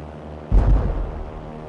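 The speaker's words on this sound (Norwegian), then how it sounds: "I 2 bølger kommer bombeflyene. De slipper bombene fra mindre enn 1000 meters høyde." A WWII bomber raid of 1944 on the battleship Tirpitz, bombs released from below 1000 metres, gives a single heavy, muffled blast that rises suddenly and then rumbles away into a low, steady background roar.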